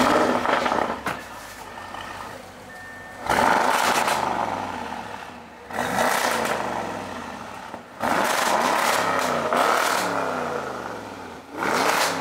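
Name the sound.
Audi RS7 with downpipes and muffler, loud engine revving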